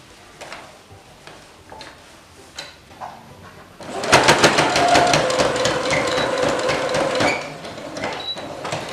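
A domestic sewing machine stitches bias binding on a fabric wine holder, starting after soft handling noises with a close, loud, rapid mechanical rattle of the needle that runs for several seconds and then eases off.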